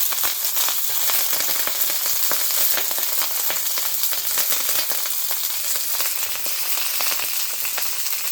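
Curry leaves fry in hot oil for chicken 65, giving a steady, loud, close sizzle with crackling throughout and no voices.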